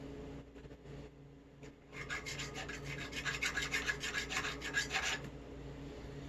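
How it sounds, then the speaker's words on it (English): Steady rasping strokes of a deburring tool scraping along the inner seam of a metal tube, starting faint then growing louder and rhythmic for several seconds before stopping. "So I just like to deburr those areas."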